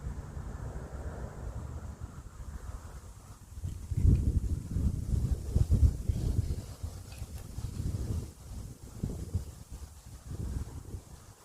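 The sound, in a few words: wind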